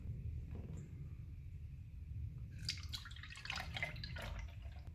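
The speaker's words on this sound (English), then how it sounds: "now we're going to pass it through the strainer" Panna cotta mixture poured through a kitchen strainer, a soft trickling and dripping of liquid that starts midway, close and fairly quiet over a low steady background rumble.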